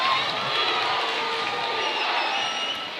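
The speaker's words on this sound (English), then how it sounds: "their crowd is all on their feet now" A high school boys varsity basketball crowd in Fort Calhoun's gym rises to its feet at a district final, cheering and shouting in a steady loud roar with sneaker squeaks faintly mixed in.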